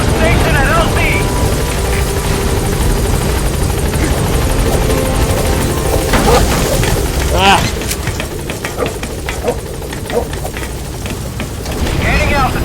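The Pequod helicopter in the video game Metal Gear Solid V arrives at a landing zone, its rotor roaring loud and steady throughout while a radio voice speaks over it.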